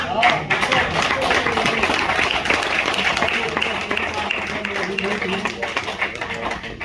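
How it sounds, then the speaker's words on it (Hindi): Audience applause at a Sainik Seva Parishad foundation day ceremony in Delhi, a dense patter of clapping throughout with a voice speaking over it. "फिर इनके लिए तालियां बजाता रहिए"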